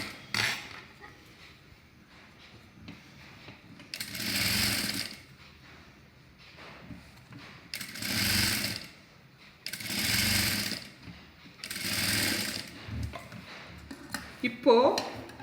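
Sewing machine stitching the curved neckline of a high-neck blouse, running in four separate loud bursts of a few seconds each with quiet pauses between, while someone talks quietly through the gaps.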